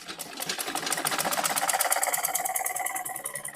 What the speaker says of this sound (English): So I'm just going to sew it down like that,